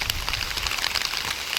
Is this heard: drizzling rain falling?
yes